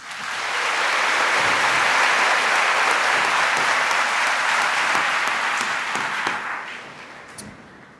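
An audience at a high school commencement ceremony bursts into loud, sustained applause, dense clapping that holds steady for several seconds before tapering off.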